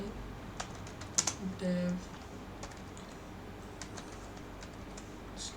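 Typing on a computer keyboard during a Python programming lesson, a few faint, scattered key clicks with a short burst of taps, quiet and close, alongside a brief spoken word.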